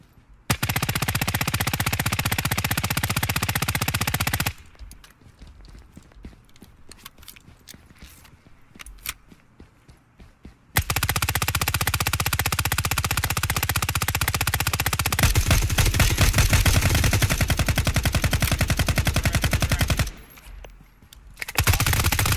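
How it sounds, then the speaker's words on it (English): Sustained machine-gun fire in the tactical shooter Ground Branch, long loud bursts that break off into quieter footsteps and scattered shots and then come back hard, with no voices. "where are the shots coming from?"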